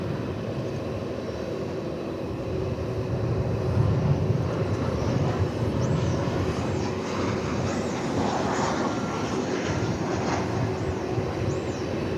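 A fixed-wing airplane at DFW Airport rumbles steadily at a distance, a broad continuous engine roar that swells slightly midway and holds without pause, no voices present.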